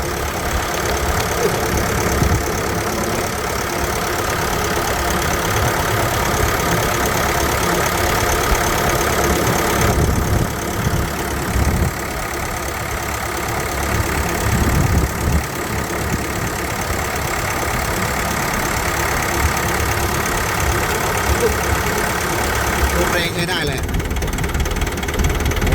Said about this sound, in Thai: เสียงเครื่องนิ่มมากเลยครับ